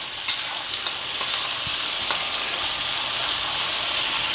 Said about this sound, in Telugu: అదైతే ఉల్లిపాయ కొంచెం వేగనిద్దాం